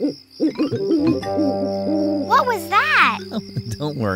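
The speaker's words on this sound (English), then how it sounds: "That's the sound of an owl." An owl hoots at night in a children's TV scene, a few wavering hooting calls standing out over a steady tonal background, with people talking around them.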